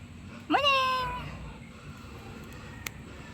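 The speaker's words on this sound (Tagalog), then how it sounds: "Maganda po itong kay mamang alagang pusa." A pet cat gives a single clear, drawn-out meow close by, rising then trailing off, with low background hum and a faint click afterward.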